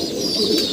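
Racing pigeons give a brief soft coo at the loft during a training toss, close and quiet against low background noise.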